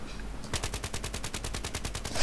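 Rapid automatic gunfire in Battlefield 3 rattles out as a fast, even burst of sharp shots following a brief quiet moment, fairly close and loud, with no talking.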